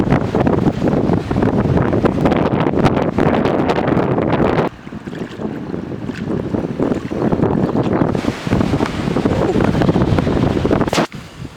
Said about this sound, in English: it is just a little bit windy